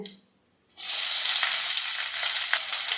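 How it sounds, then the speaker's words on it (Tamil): Sliced onions drop into hot oil with frying spices for a kurma. After a brief quiet, a sudden loud, steady sizzle bursts up and carries on alone, close up, with faint crackles through it. "2 மீடியம் சைஸ் பெரிய வெங்காயம் எடுத்து நீல வாக்கில் கட் பண்ணியிருக்கேன், அதை சேர்த்துக்கிறேன்."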